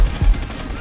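Gunfire in the video game Call of Duty: World at War, a brief, loud burst of rapid automatic shots with heavy low-end thumps, close and punchy.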